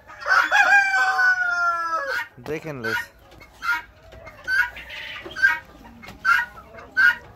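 A rooster crows loudly up close, followed by a string of short clucks and squawks from fowl, with a brief spoken word in between.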